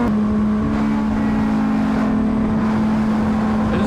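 A Honda Fireblade sport motorcycle engine hums loud and steady up close, with a sustained droning tone and a slight revving swell as the throttle opens, running continuously throughout.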